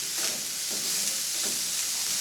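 Cumin frying in oil in a pan: a steady, close hiss and sizzle throughout, with faint stirring scrapes and no speech.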